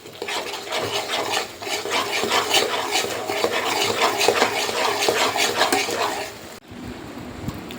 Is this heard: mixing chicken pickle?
yes